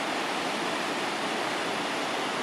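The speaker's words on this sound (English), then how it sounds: "There's the Coquesila River." The Koksilah River flows below a trestle near Shawnigan Lake and Cobble Hill, making a steady, loud rush of water with no pauses and no voices.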